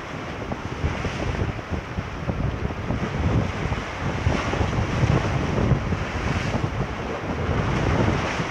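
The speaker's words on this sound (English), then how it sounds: "We have 25 mile an hour winds here." A storm on the Thimble Islands drives 25 mph winds and high-tide waves that roar steadily against the shore, with heavy wind buffeting the microphone throughout and no voices.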